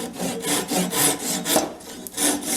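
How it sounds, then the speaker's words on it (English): An oak dowel being cut flush with a hand saw gives a rapid run of rasping back-and-forth strokes, close and fairly loud, with no voices. "I'll go ahead and trim these dowels off."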